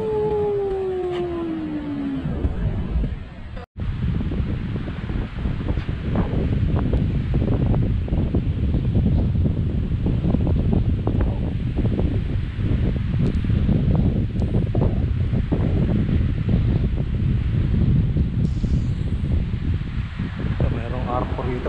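Waves washing onto the shore at a rocky cove on Lake Huron's Goderich Rotary Cove, mixed with steady gusting wind buffeting the microphone; a broad continuous roar lasts throughout, with a brief dropout early on.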